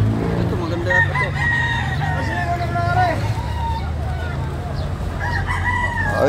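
A native rooster crows several times, near and clear, in Baliwag, Bulacan, with other chickens clucking and people talking in the background.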